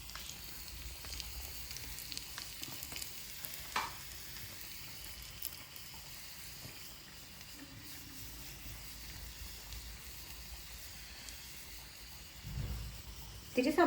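Onions sautéing in a pan give off a faint, steady sizzle with scattered small crackles, continuous and soft throughout.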